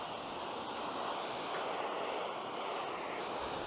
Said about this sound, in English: In, and we're pressure washing.